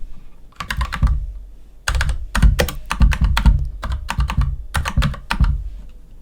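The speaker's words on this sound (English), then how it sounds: "type it out again." Rapid typing on a computer keyboard: close, clattering bursts of keystrokes in quick irregular runs separated by short pauses, with no voices.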